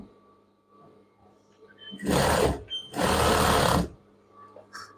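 A sewing machine stitches elastic onto children's pajama fabric in two loud, close bursts of rapid whirring, separated by a brief pause, with quiet room hum before and after.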